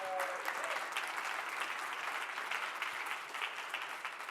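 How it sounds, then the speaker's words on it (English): An audience at a wellbeing workshop applauding, dense even clapping from many hands that holds steady for the whole stretch. "So I think we all deserve a round of applause."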